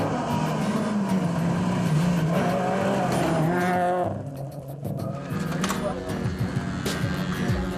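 A Peugeot 207 Super 2000 rally car drives hard, its engine roaring and revving with brief tire squeals, while a narrator talks steadily over it throughout.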